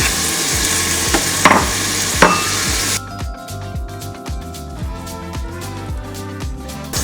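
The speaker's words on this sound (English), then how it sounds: "we can throw that onion in now and start to just brown those off and just let them cook down a little" Onion goes into a pan for a homestyle tomato soup and starts to brown, giving a bright sizzle for a few seconds. Then a steady rhythmic mechanical thumping takes over, loud and close.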